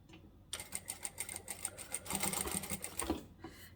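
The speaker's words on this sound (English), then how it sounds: "I'm just going to take my second piece and just chain stitch those two together" A home sewing machine chain-stitches two pieces of fabric for a child's lined tote bag: after a short pause it starts with a rapid, even mechanical clatter, running steadily for about three seconds before stopping.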